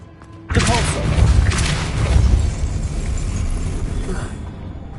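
Depulso force-push spell cast in the video game Hogwarts Legacy: a sudden loud magical blast with a heavy thud and crashing whoosh that rumbles on and slowly fades over several seconds.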